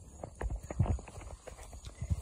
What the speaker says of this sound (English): Oh shoot, there's another horse.